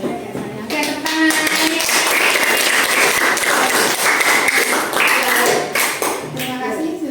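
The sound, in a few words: class applause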